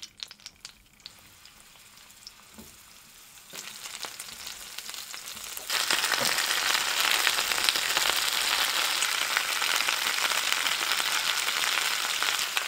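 Onions fry in oil in a flat pan, starting quiet, then swelling into a loud, dense, steady sizzle that grows stronger twice and keeps crackling close by without any talk.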